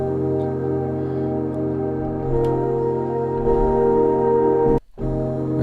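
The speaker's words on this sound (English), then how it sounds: "I'm just start off this beat using this plugin called Melodic 2 and this nice preset called Moment Chord Playable" Sustained synth chords from the Melodic 2 plugin's Moment Chord Playable preset, a full layered pad with steady harmonics that shifts chords partway through, then cuts to a brief gap before resuming, with no talking.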